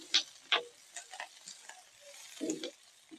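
Ingredients for nalleru chutney frying in a pan, with scattered stirring scrapes and soft sizzling bursts, close and fairly quiet, no talk.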